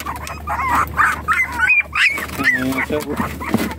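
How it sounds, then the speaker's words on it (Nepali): A puppy for sale whimpers and yips in a run of short, high, rising cries, close and fairly loud, with a low steady hum underneath and some lower yelps toward the end. "दामी दामी छ यो पप्पी"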